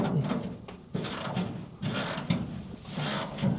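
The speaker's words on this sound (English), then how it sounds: "I'm going to pull some bolts and we'll look at this." A ratchet wrench working bolts loose on a K5 Blazer wheel, quick clicking bursts in several runs separated by short pauses, close and fairly loud.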